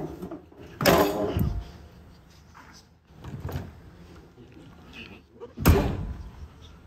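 A travel trailer's entry steps fold up and its door is shut and locked, a few loud clunks and rattles close by with shuffling between them.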